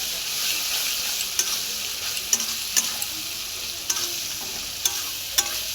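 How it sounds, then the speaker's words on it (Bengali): Masala fries in oil with an even, bright sizzle while a spatula scrapes and taps the pan at roughly regular intervals, the strokes standing out crisply and close. "মশলাটা আমার কষানো হয়ে গেছে। পাশ দিয়ে তো তেল ছেড়ে দিয়েছে।"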